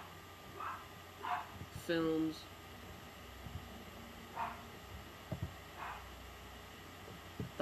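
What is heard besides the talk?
dog barking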